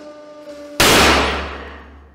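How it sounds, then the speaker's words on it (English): A 150 ton hydraulic press crushes a bolt: a faint mechanical hum gives way to one loud, sharp bang as the bolt fails, followed by a decaying ring and low rumble. "the hydraulic press channel has invested in a 150 ton press and some serious bolt destruction"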